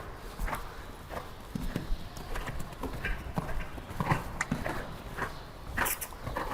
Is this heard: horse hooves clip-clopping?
yes